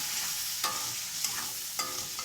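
Shrimp fry in hot oil with a steady sizzle, broken by a few quick spoon scrapes against the pan at regular gaps; no one speaks.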